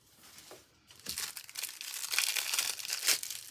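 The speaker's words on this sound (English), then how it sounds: "So remove the old tape." Old tape peeled off a tape dispenser, a quiet start followed by crinkling, tearing and crackling of the tape, close and steady.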